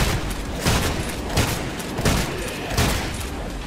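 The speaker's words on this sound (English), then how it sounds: "This is like a super grenade launcher." A super grenade launcher in Trepang2 fires, giving a loud, continuous roar of dense booming blasts with a few stronger thumps pulsing roughly every half second, up close and without speech.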